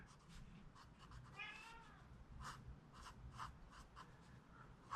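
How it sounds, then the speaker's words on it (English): A cat gives a single clear meow partway through, over faint scratching and rustling sounds in a quiet room. "Kitty cat wants to come in."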